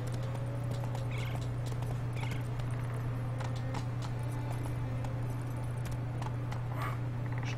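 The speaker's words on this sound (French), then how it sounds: "Il descend de la montagne à cheval." Steady clip-clop of a horse's hooves as a rider descends a mountain on horseback in The Witcher 3, quiet and continuous over a low game hum.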